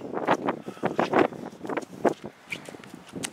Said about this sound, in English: the wind's pretty harsh out here